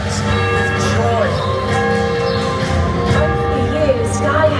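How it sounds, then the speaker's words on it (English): Church bells ring out in celebration during a live castle show at Warwick Castle, pealing steadily beneath a loud, dense mix of narration and music. "The church bells that had sounded a warning of this ferocious invasion now rang out with joy."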